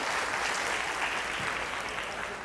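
A packed hall audience at a Korean-language exam prep lecture claps steadily, a dense wash of many hands close by that tapers slightly toward the end.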